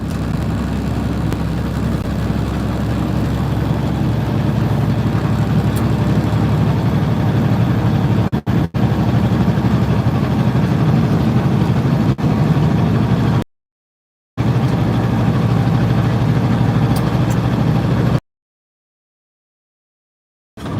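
A heavy truck engine drones loud and steady while climbing a hill in 17th gear with the engine fan on, a constant low rumble broken by a couple of brief dropouts.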